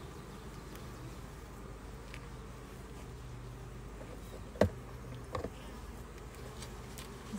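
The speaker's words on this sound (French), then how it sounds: "Là, on voit les abeilles, elles bougent beaucoup" Honeybees buzzing around an opened hive during a visit to the apiary, a soft continuous insect drone with a couple of brief knocks partway through and no talk.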